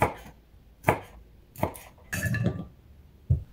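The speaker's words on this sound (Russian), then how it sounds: "Срезаю прожилки посередине и режу затем на треугольники" Four sharp knife strikes on a cutting board as a bell pepper is cut into triangles, spaced irregularly, with a brief rustle of pepper pieces in between; close and crisp.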